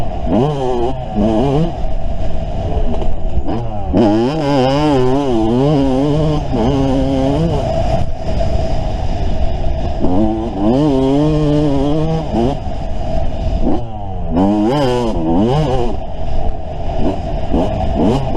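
A rebuilt Yamaha YZ250 two-stroke dirt bike with a ported exhaust and BR9 plug is ridden nearby, its engine rising and falling through repeated loud revs and gear changes, steady throughout with no talking.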